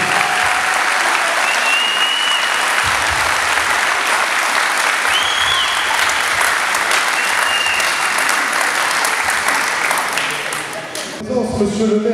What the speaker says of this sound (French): Vous pouvez tous vous applaudir, vraiment.